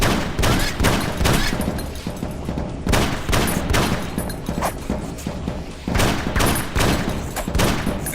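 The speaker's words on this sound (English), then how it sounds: "Take 2 shots from the rifle." Rifle gunfire in a video game, loud, close repeated shots with booming impacts filling the whole stretch in dense clusters, alone without speech.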